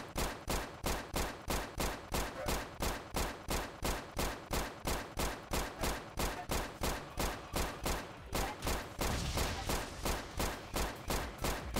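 Rapid, evenly spaced bursts of toy-like gunfire from a Roblox game weapon launching hamburgers, a steady loud machine-gun rhythm of roughly three shots per second running throughout with no talk.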